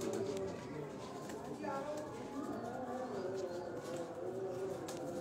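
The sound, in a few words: pigeons cooing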